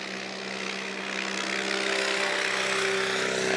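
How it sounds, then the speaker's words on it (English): A STOL airplane fitted with a Yamaha snowmobile engine spools up for a short takeoff at a Rocky Mountain STOL competition. Its loud, steady engine drone rises gradually with sustained tonal hum, no talk over it. "He's going to spool up that Yamaha."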